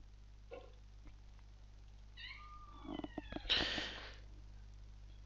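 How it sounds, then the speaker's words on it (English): A pet cat meows indoors: a few short, clear meows near the middle, then a louder, busier stretch of movement, over a steady low hum with no talking. "I don't know if you can hear, but it's my new pet. It's a cat."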